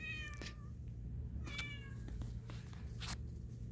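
A black cat meows several times, short and fairly close, with quiet pauses between the calls over a low background hum.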